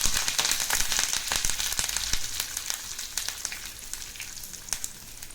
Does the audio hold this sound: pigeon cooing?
no